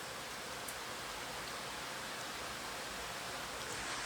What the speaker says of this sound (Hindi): कॉलबुक मिलने के बाद झराझर बारिश हो रहा है।